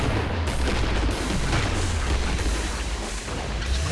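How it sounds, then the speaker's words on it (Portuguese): Dense, continuous gunfire from the Killing Floor video game, loud and close, with rapid overlapping booming shots filling the whole stretch and no break. "atirei exatamente na cabeça do zumbi"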